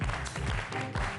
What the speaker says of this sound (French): un tonnerre d'applaudissements pour Faziel Kenz